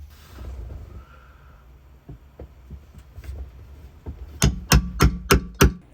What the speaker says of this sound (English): Now I'm going to use a chisel and a hammer just to break that sealant away.